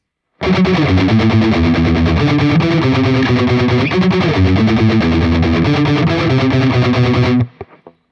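A distorted electric guitar plays the heavy, chugging verse riff in standard tuning, loud and continuous for several seconds before cutting off abruptly.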